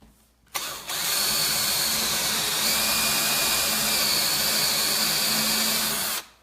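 A power drill fitted with a half-inch bit bores into wood, a brief startup blip followed by a loud, steady high-pitched whine lasting several seconds before stopping abruptly.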